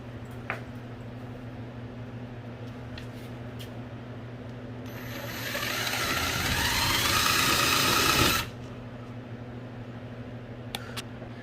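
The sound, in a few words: drilling half-inch holes in drywall for anchors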